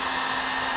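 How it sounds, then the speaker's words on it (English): A heat gun warms tint film on a car tail light, producing a loud, constant close-up blowing roar with a steady motor hum throughout. "Just heat it up and get it stuck."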